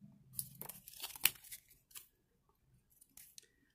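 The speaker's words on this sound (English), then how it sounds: "So you gotta be careful when you're ripping into the packs." Match Attax 2019/20 trading card packs ripped open in a few quick tearing bursts, with crinkly foil wrapper rustles between them, close and fairly quiet, no talking.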